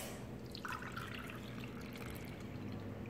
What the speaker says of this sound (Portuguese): Agora que nós vamos colocar leite.